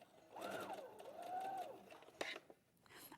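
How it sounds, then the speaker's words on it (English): A sewing machine stitches a quilt in a steady, fast mechanical whir that runs almost continuously, briefly pausing with a click, heard faintly beneath a person speaking. "The great thing now about these sewing machines that the needle stays down."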